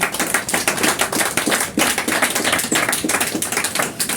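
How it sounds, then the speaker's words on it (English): A room full of people applauding at a Christian Constitutional Alliance gathering in Liverpool, with dense, steady clapping that holds loud throughout. "Just want to see a round of applause for George"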